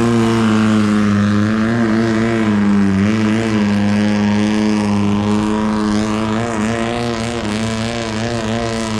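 A loud, raw long-tail boat engine, a straight-piped four-cylinder Toyota, drones close by, its throaty pitch wavering and surging as it revs continuously, in Bangkok, Thailand.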